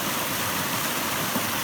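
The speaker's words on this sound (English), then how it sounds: "You can see that the water is rushing down the stream today into the lake." Stream water swollen by rain and snowmelt rushes steadily into a woodland lake, a continuous broadband roar with no pauses or voices.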